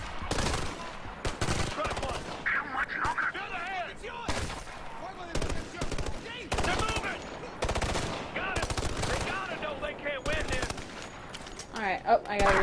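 Gunfire from the Ghost Recon video game: dense, repeated bursts of automatic weapon fire fill the stretch, loud and close, with voices talking over and between the shots.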